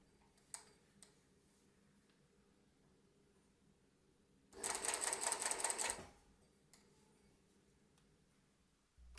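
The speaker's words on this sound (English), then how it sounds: "you stitch along the fingers until you reach it" A sewing machine stitches along glove fingers during a repair, a quick, loud burst of rapid ticking stitches lasting about a second and a half amid quiet room tone with a few faint clicks.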